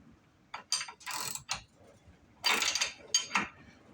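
A ratchet works a pulley puller clamped in a bench vise on a Buick 5.3 engine swap, giving two bursts of quick, close clicking strokes separated by a short pause.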